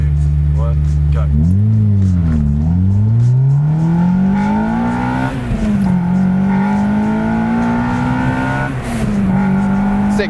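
Honda Civic Type R EP3 accelerating hard in a 0-60 run, engine note loud and close from inside the car, revving up through first, a quick shift dip, then a sustained full-throttle climb in second.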